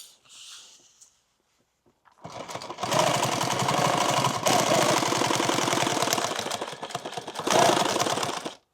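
A sewing machine tacks stitches into a bandolier: after a short pause it starts a fast, steady, close-up mechanical whir that runs continuously for several seconds, with slight surges near the end.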